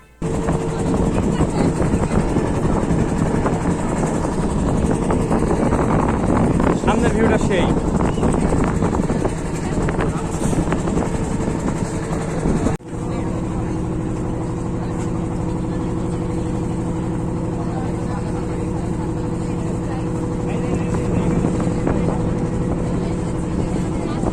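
A boat engine on Kaptai Lake, Rangamati, drones steadily and loudly for a long stretch, then abruptly drops to a lower, quieter idle hum as the boat lands at an island.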